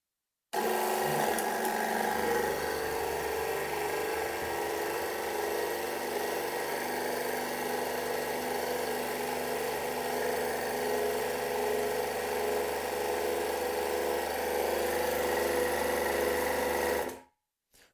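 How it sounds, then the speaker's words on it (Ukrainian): A hydraulic power unit pressurising a 30-ton hydraulic cylinder being repaired, a steady, loud mechanical hum and whine running unbroken for about sixteen seconds before stopping abruptly. "підключили ми гідроциліндр до маслостанції, будемо наганяти тиск"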